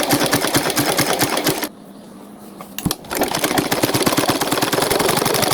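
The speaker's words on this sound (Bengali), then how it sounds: "সর্বপ্রথম এই যে গলার পটিটা এইভাবে করে সেলাই দিয়ে নিতে হবে" An electric sewing machine stitches the neck strip of a dress, running in a loud, fast, steady rattle, pausing briefly, then resuming at full speed; no voices are heard.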